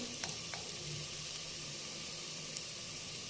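Tomatoes with salt fry in hot oil, making a steady, close hiss of sizzling with a couple of faint clicks from stirring and no one talking.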